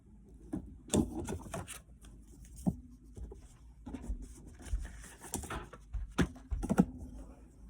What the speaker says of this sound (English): So we're scoring it at a 1/2 inch.